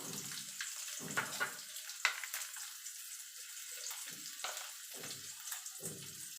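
Water is poured from a bowl into sugar to start a syrup for sweet boondi, giving a few splashy, gurgling bursts close by with short quiet gaps, and no talk.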